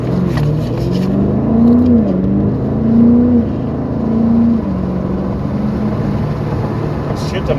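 A BMW M5 Competition accelerates with a loud, close engine note that rises and drops as the automatic gearbox shifts up by itself, several rising pulls before settling into a steady drone.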